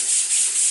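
A piano's wood finish is sanded by hand, giving a close, steady hissing rub with slight swells as the paper strokes back and forth.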